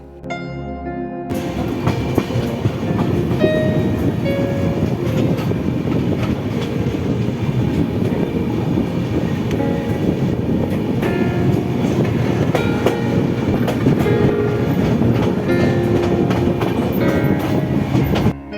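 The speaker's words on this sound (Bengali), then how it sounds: "বাইরের ট্রেনের গতিও লাগাম ছাড়িয়েছে" The Haridwar to New Delhi Jan Shatabdi Express rolls steadily along the rails at speed, a loud continuous rumble with rhythmic clatter from the wheels, sustained throughout with no voices.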